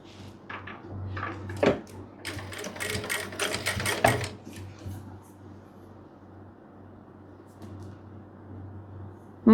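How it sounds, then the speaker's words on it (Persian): A sewing machine runs up close as bias tape is stitched near the fabric edge, with a fast rattling burst of stitching for a few seconds before it drops to a low hum. "میذارین زیر چرخ و یه دوخت نیش از لبه میرید"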